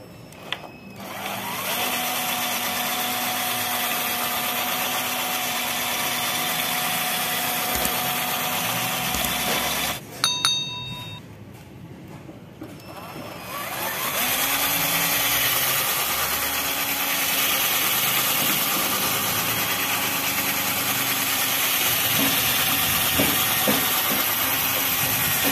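A power drill boring through metal, with oil on the bit, whines steadily for about ten seconds, pauses briefly, then drones on again for another long stretch with a harsh, grinding hiss.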